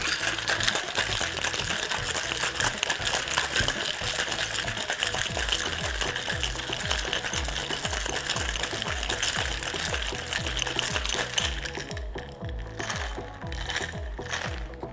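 An Absolut lychee martini shaken hard with ice in a cocktail shaker, a loud, steady rattling churn lasting about eleven seconds before it slows and stops, with no talking over it.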